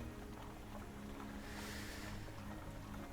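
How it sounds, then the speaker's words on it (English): Waves surging against a cliff below form a steady wash of ocean surf and water noise with some wind, continuous and moderately loud, with no voices over it. "sound of the ocean, the waves of the river below kind of crashing up against the cliffside, kind of fill your ears, and Bell's gone"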